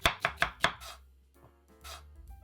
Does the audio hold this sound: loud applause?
no